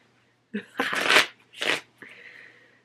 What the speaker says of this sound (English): we'll put the 8 of spades back in the deck and shuffle.